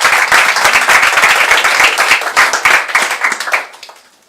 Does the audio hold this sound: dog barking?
no